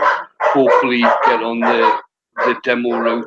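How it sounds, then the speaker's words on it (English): Dogs bark in the background of a home workshop while someone talks over them, the barks partly buried under his steady speech. "Excuse the dogs."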